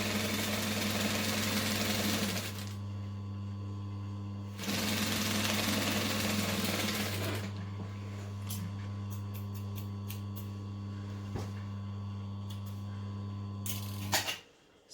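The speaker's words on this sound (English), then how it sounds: "And then sew it shut." A sewing machine stitches a seam shut on a circle skirt in two loud runs of rapid needle chatter, separated by pauses, over a steady motor hum that continues throughout.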